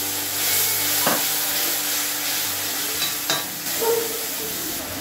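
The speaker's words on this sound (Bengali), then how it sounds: "এখন আমি যে মশলার পেস্টটা জল দিয়ে গুলিয়ে রেখেছিলাম সেই পেস্টটাকে আমি দিয়ে মশলাটাকে ভালো করে ভেজে কষিয়ে নেব।" Spice paste mixed with water fries and sizzles steadily in a pan while a utensil stirs it, with a few distinct scraping clacks, up close and with no talking.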